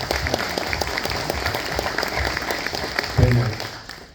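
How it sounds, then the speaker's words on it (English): A crowd at a substation grand opening in Lake Havasu City claps for Amanda, a moderate stretch of scattered, steady applause with faint voices underneath and a brief thump near the end. "So please give Amanda a round of applause."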